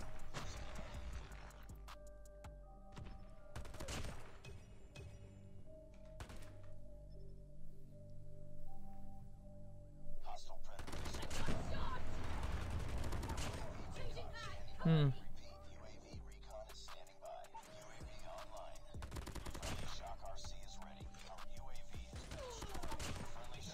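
Bursts of automatic gunfire in Call of Duty Mobile, from a Damascus-camo BK57 rifle among others, come in scattered clusters, fairly faint under steady talk and game sounds.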